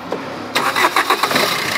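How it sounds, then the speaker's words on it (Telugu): A 2018 Maruti Brezza diesel engine cranks briefly and catches, settling into a steady close-up idle rumble. "చూసుకోవచ్చు ఇంజన్ సౌండ్ ఎంత సైలెంట్గా ఉన్నదో"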